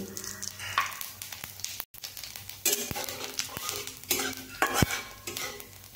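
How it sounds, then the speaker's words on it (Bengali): Nigella seeds spit and sizzle in hot oil in a wok as a utensil stirs and scrapes close by. Sharp clinks and taps of metal on the pan punctuate the crackle. "আমি একটি কড়াই বসিয়ে দিয়েছি, একটু তেল দিয়ে নিয়েছি। এবার আমি দিয়ে নেব একটু কালো জিরে"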